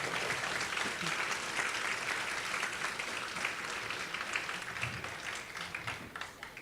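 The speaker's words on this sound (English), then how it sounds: "Now let's give them all a round of applause for serving and for being here." An audience at a 2018 Hawaii gubernatorial candidate forum gives a sustained round of applause, a dense, even wash of many hands heard from a distance and fairly quiet, with no voices over it.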